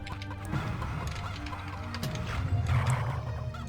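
Chickens cluck and squawk in the Heretic video game, several birds chattering over a low game hum, moderately loud and continuous.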